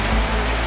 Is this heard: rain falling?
yes